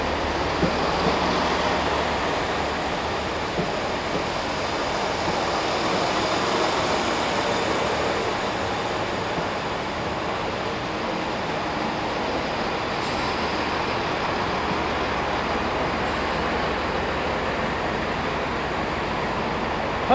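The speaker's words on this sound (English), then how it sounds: "Good train." A train roars past up close, a loud continuous rushing rumble with clattering that stays steady throughout, with no voices.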